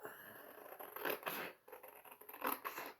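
Scissors snip through a paper napkin for napkin decoupage, a few quiet crisp cuts and rustles close by with no talking.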